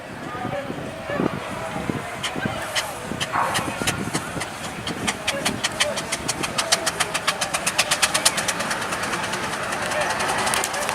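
A steam traction engine chuffs steadily at a steam rally, its exhaust beats quickening into a rapid rhythmic pulse, with crowd murmur and voices around it.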